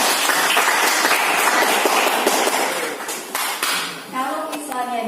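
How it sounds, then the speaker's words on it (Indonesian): A classroom of students claps for a presenting group, a loud dense burst of clapping that tapers off as a voice begins speaking. "Tepuk tangan untuk kelompok 2 ya."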